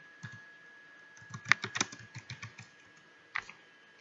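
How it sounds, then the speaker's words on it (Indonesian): Typing on a computer keyboard: a short burst of close, crisp key taps in an uneven rhythm, a pause, then a couple more clicks, alone in a quiet room. "kalian bisa ketik Google Form di Google."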